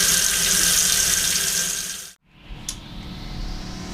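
Water runs steadily from a newly installed faucet on a catamaran, a close, loud hiss that cuts off abruptly, followed by a faint squeak and quieter residual flow.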